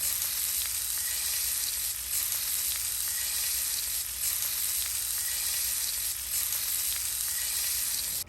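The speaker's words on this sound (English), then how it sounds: "we're going to lay our shrimp down flat into the pan" Shrimp searing in a hot, oiled cast iron skillet, a loud, continuous, even sizzle heard up close with no voices.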